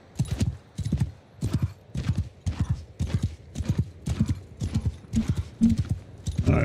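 Horses in the game Bannerlord clip-clop in a steady, rapid rhythm of hoofbeats, repeating about every half second, close and fairly loud with no talk over them.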